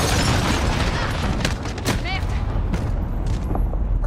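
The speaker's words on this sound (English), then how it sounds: "Enemy cruise missile incoming." An enemy cruise missile explosion in a video game: a heavy boom with rumbling blasts and scattered bursts, loud and near, dying away toward the end.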